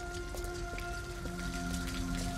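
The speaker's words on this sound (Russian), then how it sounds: "А опять на дождь, опять под дождь идем." Steady rain patters across surfaces in the video game Detroit: Become Human, a dense wash of drops layered over a low droning tone.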